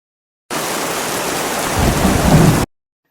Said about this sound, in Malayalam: എന്ത് മഴയുടെ വെട്ടാ, നമ്മൾ എങ്ങനെ പോകും?